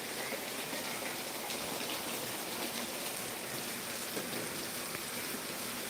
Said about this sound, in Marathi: मस्त असं वातावरण झालेलं आहे पावसाचं